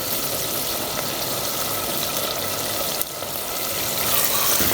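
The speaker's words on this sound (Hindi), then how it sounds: "चमचा आपने चलाते रहना है, क्योंकि प्याज हमारे जो है ना मिट्टी की हांडी है, नीचे ना लगें।" Chicken and onions fry in a clay handi while a spoon keeps stirring them, making a dense, steady sizzle up close with faint scraping through it and no talking.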